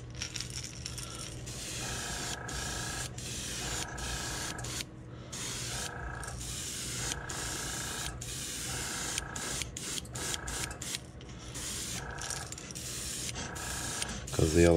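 An airbrush sprays light coats of U.S. Art Supply ochre paint over a squarebill crankbait lure, giving a steady close hiss broken by short rhythmic pauses and trigger clicks.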